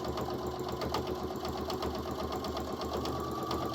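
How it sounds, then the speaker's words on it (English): Sewing machine stitching a fabric onesie, running steadily with a dense, even rhythm of fast needle strokes throughout, close and fairly loud with no talk over it. "but I am sewing that little bit away from the edge"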